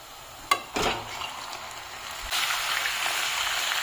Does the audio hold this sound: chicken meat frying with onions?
yes